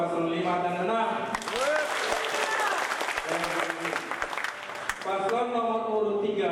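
Audience applause for candidate pairs at a regency head election debate in South Aceh, a sustained burst of clapping from a crowd, with a voice speaking over it in places.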